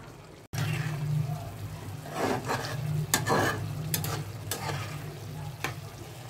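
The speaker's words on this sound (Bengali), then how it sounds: "এই মশলাটা দিয়ে আরও 3-4 মিনিট একটু মিডিয়াম হিটে কষতে হবে" Spice masala for chicken kabuli pulao sautéed on medium heat, a steady low sizzle under intermittent scraping and stirring strokes in the pan.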